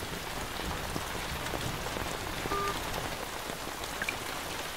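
Steady rain falls on surfaces nearby, an even, continuous patter with no voices.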